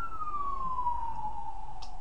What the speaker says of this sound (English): A siren. That's what happens when you live on Kingston Road.